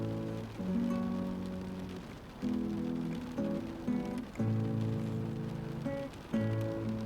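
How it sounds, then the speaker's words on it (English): Soft rain falls in the background of The Stanley Parable video game, a faint steady hiss beneath gentle guitar chords that play in phrases with brief pauses. "And the rain in the background."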